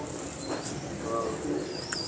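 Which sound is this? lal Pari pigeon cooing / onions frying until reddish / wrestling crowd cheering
lal Pari pigeon cooing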